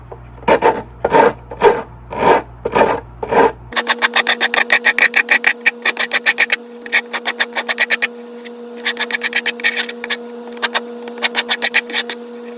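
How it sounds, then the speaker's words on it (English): A rasp files the wooden edge of a box ukulele back in loud, close, rhythmic strokes, first slower coarse scrapes, then quicker, finer rasping bursts repeated in steady runs. "Got my rasp. I'm going to start with the big teeth and I'm going to take off the extra lip of wood here."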